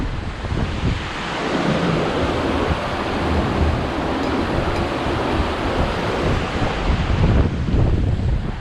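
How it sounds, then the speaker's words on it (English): Strong wind blowing across water under a bridge, with small waves lapping; a loud continuous roar of wind buffeting the microphone over the wash of water throughout. "you can see how windy it is there with the little waves"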